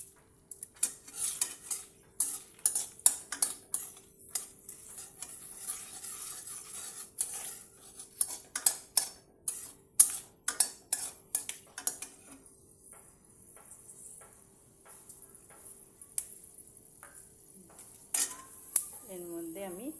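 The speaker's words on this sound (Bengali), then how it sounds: "মশলাগুলি ভালো করে কষিয়ে নেব" Spices and fenugreek being stirred and fried in a pan with a dried red chilli, spoon scraping and clinking against the metal in quick bursts over a soft sizzle, with short pauses between stirs.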